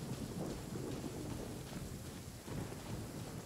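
A thunderstorm in Genshin Impact: steady heavy rain with low rolling thunder rumbles throughout, dense and continuous with no voices.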